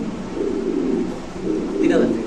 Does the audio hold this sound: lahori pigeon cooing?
yes